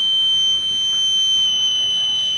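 A solar-powered electric buzzer drones continuously at one high, unwavering pitch, loud and close, with a faint hiss underneath.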